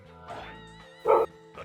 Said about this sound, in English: And so the dog is barking.